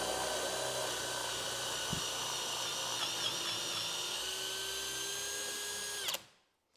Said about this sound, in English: So it's like a little mini portable drill press.